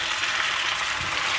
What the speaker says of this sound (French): bien faire griller les oignons